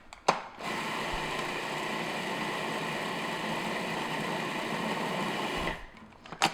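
A food processor whirs steadily through a date squares mixture in one continuous run of about five seconds, loud and close, starting and stopping abruptly with no talking.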